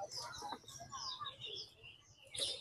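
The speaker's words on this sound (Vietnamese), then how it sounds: "Đây là dòng khiếu bụi." A caged khiếu bụi laughingthrush at an outdoor bird market gives a series of bright whistled and chirping notes, fairly faint, with a sharper call near the end over low background murmur.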